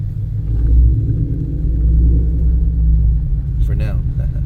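A Ford Mustang S650 with an FBO setup cruises along casually, its exhaust giving a deep, steady low rumble close up, with a brief voice near the end.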